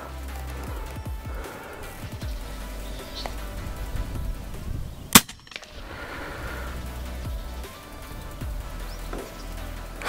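An FX Crown GRS air rifle fires a 26-grain Javelin slug at a starling 61 meters away outdoors, heard as one sharp, fairly close crack against steady faint background noise.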